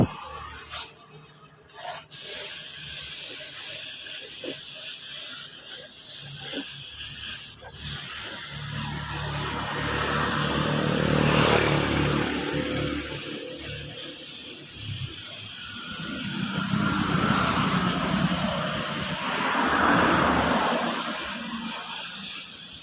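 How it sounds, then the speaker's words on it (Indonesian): A spray gun hisses continuously at close range, spraying red candy paint onto a Honda Beat motorbike body, a steady airy rush that shifts slightly in tone and briefly pauses once. "ini kita langsung tutup, kita semproti seperti ini"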